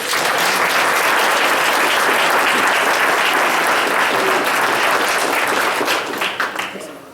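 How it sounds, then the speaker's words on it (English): Sustained loud applause from a graduation ceremony audience, dense steady clapping filling the room for about seven seconds before tapering off at the end. "Let's give them a round of applause."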